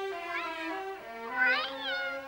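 A cartoon cat meows in a long, wavering, high-pitched voice with a rising second cry, clear and alone in a Smurfs animated episode.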